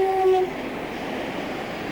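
A pair of British Rail Class 37 diesel locomotives on a rail tour sound a short loud horn blast, then their engines rumble steadily past.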